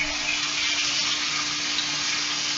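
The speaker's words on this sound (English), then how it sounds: "I love the sound of that sizzle there." Seasoned pork sizzles while frying in a pan, a steady, close hiss that holds at an even level without a break.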